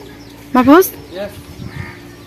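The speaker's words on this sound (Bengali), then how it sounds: "এই দেখেন মুরগি মুরগি মারামারি লাগছে" A single loud, harsh squawk from fighting chickens, followed by quieter scuffling and faint clucks.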